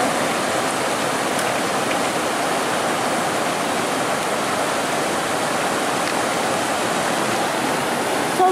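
A small mountain stream gurgles and rushes steadily, a close, continuous broadband wash of flowing water with no voices.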